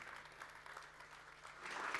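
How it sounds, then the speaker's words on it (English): Audience applause at a launch event for the Gresini Racing Moto2 and MotoE teams, a steady wash of clapping that swells louder toward the end, with no voices over it. "A big round of applause fatelo for your famiglia Gresini."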